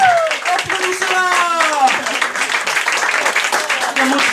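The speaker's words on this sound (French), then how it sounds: "Applaudissez-la." A comedy show audience claps and applauds at a live improv stand-up set, dense and continuous, with tonal voices and whoops mixed into the clapping.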